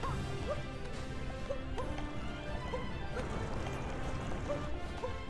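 Horse hooves galloping in Super Mario Odyssey, a fast steady clip-clop rhythm layered over dense game music and effects, loud and continuous.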